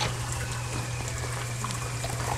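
Water from a puddle being collected in the game Fran Bow: a steady pouring, trickling liquid sound with a low hum underneath, continuous and close, no speech.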